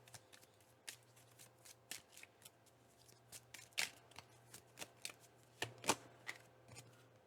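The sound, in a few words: shuffling tarot cards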